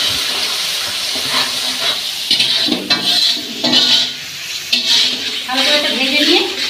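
Tomato paste frying with yogurt for Bengali mutton kosha, a hissing sizzle with repeated metal spatula scrapes and clanks against the pot, while a voice talks over it.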